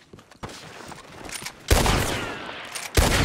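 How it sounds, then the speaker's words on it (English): Gunfire in the video game Red Dead Redemption 2 during a roleplay session in Blackwater, with scattered shots building into a loud, dense burst of overlapping reports that continues to the end. "I'm getting shot. Why am I getting shot?"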